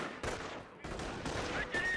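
Gunfire in the World War II strategy game Company of Heroes, a steady stream of rapid shots and bursts with sharp cracks at intervals, continuous and fairly loud across the whole moment.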